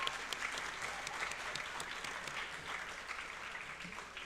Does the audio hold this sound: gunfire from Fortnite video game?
no